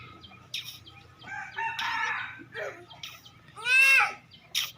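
A young rooster crows a few times nearby, with shorter squawky calls between the fuller crows, over faint background hum and no clear speech.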